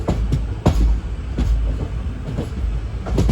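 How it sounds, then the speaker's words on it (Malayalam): A passenger train on the Mysuru to Chamarajanagar line pulls into Chamarajanagar railway station, wheels clacking in regular heavy thumps over rail joints beneath a constant rumble, close and loud, with no voices. "മൈസൂരുവിൽ നിന്നും 61 കിലോമീറ്റർ യാത്ര ചെയ്ത് ട്രെയിൻ ചെയ്ത ചാംറാജ് നഗർ റെയിൽവേ സ്റ്റേഷനിലേക്ക് എത്തിക്കൊണ്ടിരിക്കുകയാണ്"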